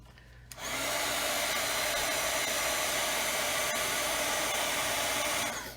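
A heat tool blasts a steady, loud rush of hot air to melt embossing powder, starting abruptly after a quiet moment and running continuously before trailing off at the end.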